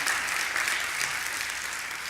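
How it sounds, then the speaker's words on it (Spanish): A congregation applauds the church choir after worship, a steady, dense wash of clapping that stays even and moderately loud for a couple of seconds. "Quiero que les demos un aplauso a los hermanos del coro por la alabanza."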